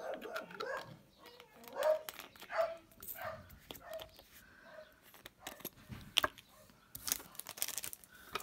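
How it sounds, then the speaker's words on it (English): Dogs bark and yip intermittently somewhere in a home, a scattered run of short yaps and whines at moderate distance, fairly quiet overall. "it's just the dogs"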